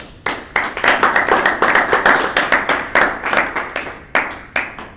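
An audience claps after a talk on the authenticity of the New Testament, giving a steady round of brisk, fairly close applause that thins out into a few scattered final claps, with no talk over it.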